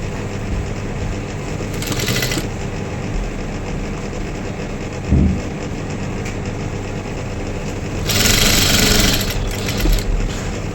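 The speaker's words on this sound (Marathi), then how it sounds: "इथे पण ही एक फोल्ड, ही एक फोल्ड अशीच आपल्याला सरळ जी आहे संपूर्ण याला शिलाई लावून घ्यायची आहे." A sewing machine runs a straight stitch along folded fabric for a one-piece dress, giving a loud continuous mechanical drone with brief surges in speed and a faint knock near the middle, with no voices.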